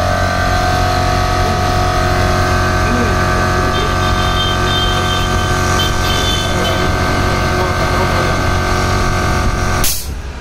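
30-liter portable high-pressure air compressor with a 2.5 HP motor, running loud and steady with a constant mechanical drone and hum before cutting off abruptly near the end.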